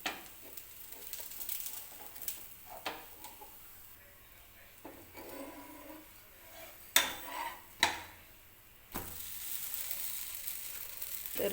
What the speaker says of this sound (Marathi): तर या डोस्याला सुद्धा मी थोडंसं तेल लावून घेते. आणि हा डोसा पलटून घेणार आहे मी.